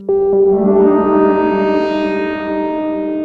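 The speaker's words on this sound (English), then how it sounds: "The reverb is pretty nice." A single IONA synth note on an MPC rings out with a bright, washy reverb tail that swells and lingers, loud and up close, no talking.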